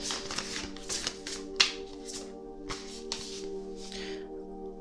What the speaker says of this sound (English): Can we shuffle properly?